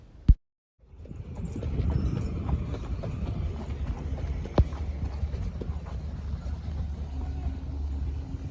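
Horse hooves clip-clop steadily and fairly close on firm ground at a three-day eventing competition, a sharp knock near the start, then continuous hoofbeats over a low rumble to the end.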